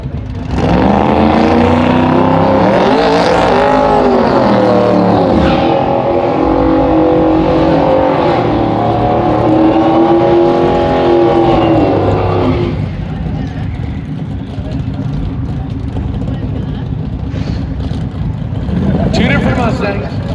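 Ford Mustangs, one on an S197 chassis and one a New Edge, rev loudly at a drag strip, with engine tones rising and falling for about twelve seconds before dropping to a lower idle rumble, with a voice heard over the noise.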